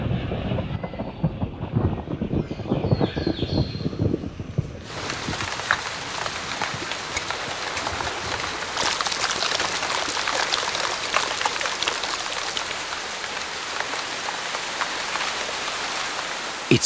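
Heavy monsoon rain falls on the Himalayan forest of Arunachal Pradesh, a dense steady hiss that starts lighter, then jumps into a loud, continuous downpour close by.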